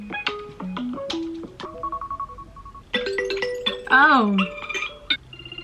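A string of iPhone 15 Pro ringtone previews plays back to back: bright chimes, plucked melodic notes, a sustained electronic tone and a warbling alert, each short and clear. A voice briefly exclaims.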